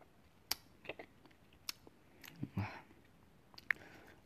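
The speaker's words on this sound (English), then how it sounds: "if you hear a chewing sound, which I know you guys are gonna hear, I'm sorry" Gum chewed right against a microphone, faint wet clicks and squishes at irregular intervals with a few sharper smacks, close and quiet.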